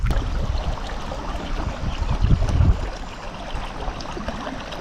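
River floodwater after a cyclone rushes across a farm field in Ziro, a steady close broadband roar with gusty swells and no voices.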